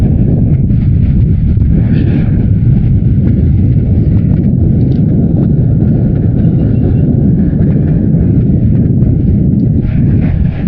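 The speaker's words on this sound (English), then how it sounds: "Got a little bit of a headwind, you probably hear it on the camera" Steady roaring wind buffeting the camera microphone while riding a converted 90s mountain e-bike into a headwind, loud and continuous throughout with no break.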